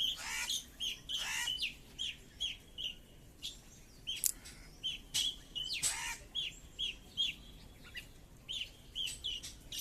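Several birds call repeatedly in short, bright chirps and clucking notes, some near and some farther off, from trees with bare branches around a home in Bengal; no talking is heard.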